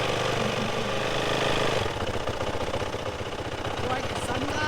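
Motorbike engine idling steadily just after starting, with a rough low throb and rapid pulsing beats running the whole time at close range, out in the Simpson Desert.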